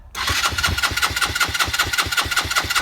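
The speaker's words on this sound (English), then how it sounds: "for some unknown reason, the bike will not start." A motorbike's electric starter cranks steadily in a fast rhythmic churn, close and loud, without the engine catching, as if the battery may be a bit low after long storage.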